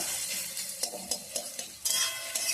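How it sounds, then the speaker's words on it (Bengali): Onions sizzle and crackle in hot oil in a home kitchen while a country-style chicken curry is prepared, a steady close frying hiss broken by a few sharp stirring clatters. "এবার আমরা গরম তেলের মধ্যে পেঁয়াজগুলো দিয়ে দেবো।"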